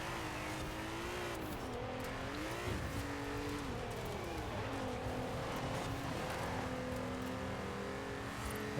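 Race cars circling a track during a long race, their engines droning and shifting pitch continuously as they accelerate and pass, a steady dense roar with no talk over it.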